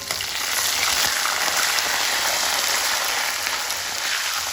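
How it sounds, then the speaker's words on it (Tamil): Curry leaves and garam pakoda frying in hot oil, a steady dense sizzle that stays close and loud throughout, unbroken and with no voices. "கருவேப்பிலையும் சேர்த்து பொறுத்துக்கலாம்"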